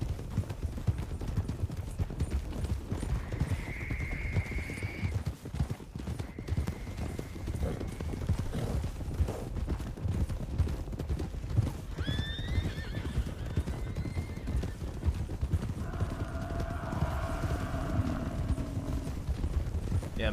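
Mustang horse hooves clip-clopping steadily in the Red Dead Wild RP video game, with several neighs and whinnies rising above the constant hoofbeats and rumbling ground noise.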